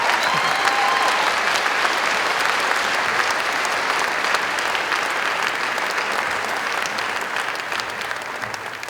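A crowd at a story slam community event keeps clapping in a steady, dense wash of applause that stays full for the whole stretch and tapers only very slightly toward the end.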